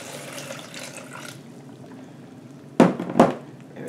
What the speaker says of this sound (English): I pour back these ones in the blender. I put the water in.